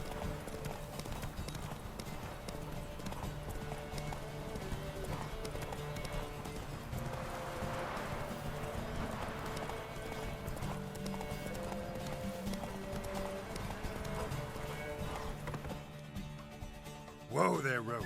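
Galloping horse hooves in The Witcher 3: Wild Hunt, a steady rapid clip-clop throughout under game music and occasional speech, with a brief whinny near the end.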